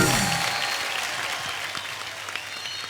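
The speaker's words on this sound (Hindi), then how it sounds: "जोरदार तालियां।" A studio audience at a comedy show applauds, clapping loudly at first and then gradually fading over a few seconds.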